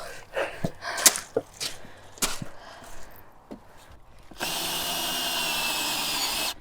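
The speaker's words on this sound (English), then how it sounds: "Right, go, drill." A few scattered knocks and handling clicks, then a power drill whirs up close while a raised garden bed is being made smaller, running at a steady, loud pitch.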